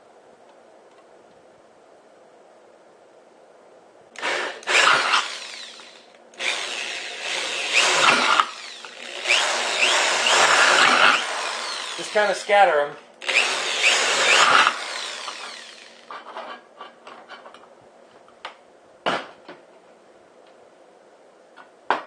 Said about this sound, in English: We're just going to drill a bunch of holes in the bottom of this.